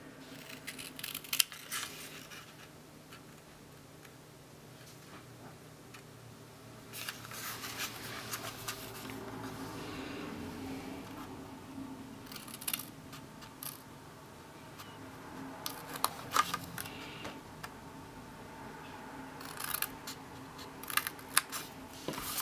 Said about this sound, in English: I'm just going to cut up to that perpendicular score line.